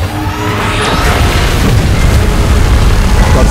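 A huge beam blast explosion from a Godzilla vs Kong battle in PUBG, heard as a loud, sustained booming roar that swells and stays dense across its whole length, with no talking.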